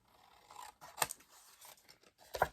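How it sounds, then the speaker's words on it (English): Scissors cut through cardstock for a handmade Christmas card, giving two sharp, close snips about a second and a half apart, with quiet rustling of the paper between them. "I'm just going to use my scissors because that's how I roll."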